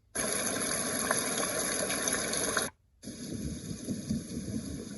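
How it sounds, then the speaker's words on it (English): Rain setting on a Housbay white noise machine: a dense, steady hiss of falling rain that cuts out briefly, then resumes slightly softer and rougher, with no voices. "A little bit of rain."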